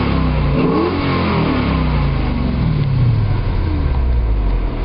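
A 2009 Dodge Challenger R/T with a factory 5.7-liter Hemi V8 revs repeatedly, engine note rising and falling in loud, close sweeps with a continuous throaty rumble and no talking.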